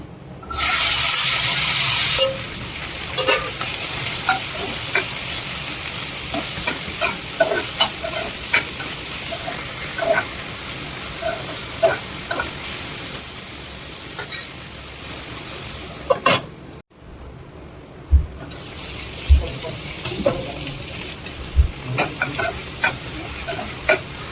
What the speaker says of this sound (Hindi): अब इसमें मैं डाल दूंगी भिंडी